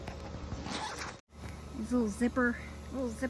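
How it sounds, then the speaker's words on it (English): A zipper on a hanging mesh herb dryer rasps briefly near the start, followed by a sudden cut and a voice speaking close by. "you just put your herbs in here and zip it back up"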